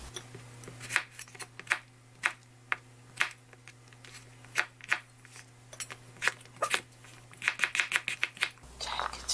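A small onion diced with a knife on a cutting board, close, crisp tapping chops in uneven bursts that speed into a quick flurry near the end, over a faint steady hum.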